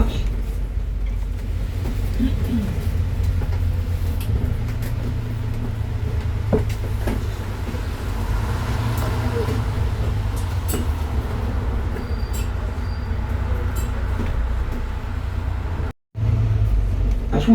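A sightseeing bus drives along the Crumlin Road in Belfast, its engine rumbling low and steady under faint interior rattles for most of the clip, briefly cut near the end.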